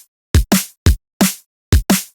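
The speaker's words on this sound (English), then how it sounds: "the kick and snare would sound like this" A typical drum and bass kick and snare pattern plays alone, with six punchy hits in quick alternating pairs. Deep thumping kicks trade with sharp, bright snares in a steady, driving rhythm.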